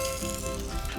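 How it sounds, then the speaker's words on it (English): Garlic sizzles in a pan over an open fire, a brief steady hiss and crackle without talk. "I'll put some garlic in there."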